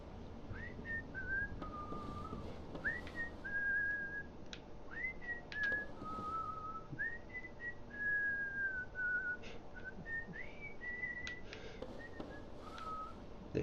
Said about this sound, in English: There you go, a little whistle mash-up.